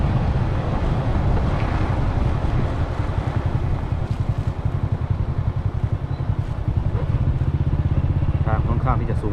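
A motorcycle heads down a mountain road in low gear near Mueang Viang Xai, Laos, its engine throbbing steadily and close up under heavy wind buffeting, with a voice talking over it.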